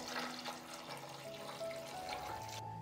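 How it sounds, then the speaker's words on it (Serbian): Hot water is poured into a pot holding hot glass jars up to the height of their lids, a soft, steady splashing stream at low volume with no voices. "Vruću vodu sipam do visine poklopca."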